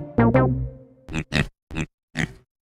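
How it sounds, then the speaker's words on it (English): A cartoon pig gives two quick squealing oinks followed by four short snorting grunts, close and clear against silence. "It's a pig! A pig! That's right! It's a pig!"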